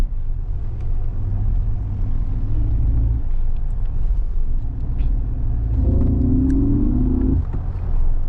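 An electric Mercedes G580 with four motors accelerates hard in sport mode, heard from inside as a steady low road rumble, with a rising electric whine building briefly near the end.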